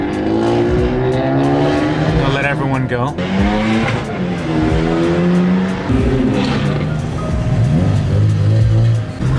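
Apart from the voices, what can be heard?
car engines revving as cars leave a car meet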